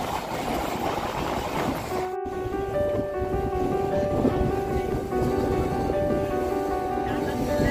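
A Hasnabad local train on the Sealdah–Taki line rumbles steadily along the rails with a loud, continuous roar, while sustained horn tones sound over it from midway on.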